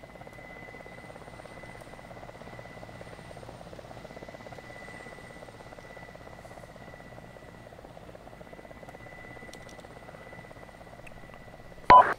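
A military-style helicopter landing at a distance in an outdoor tactical training area, its steady drone and rotor buzz holding evenly throughout before a loud close burst right at the end.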